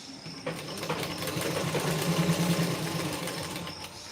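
Sewing machine stitching a tuck on a blouse, a steady close mechanical whir with a fast running rhythm that holds throughout with no pauses and no voices.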